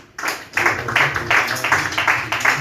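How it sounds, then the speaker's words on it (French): Church congregation clapping for the ordination of a pastor, a dense wash of many hands starting abruptly and continuing in loose pulses, fairly close and loud. "On l'acclame."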